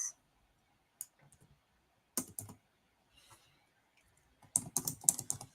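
Data-science code being typed on a computer keyboard in short, scattered bursts of crisp clicks separated by pauses, quiet and close, with no talking.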